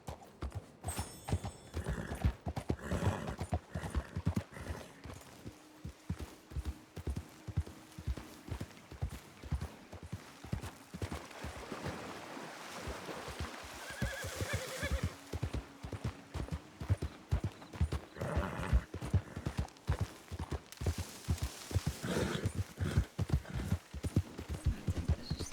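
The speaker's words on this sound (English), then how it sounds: "I hear horses." Steady clip-clop of hooves at a walking pace, with occasional horse whinnies and snorts, fairly close and continuous throughout.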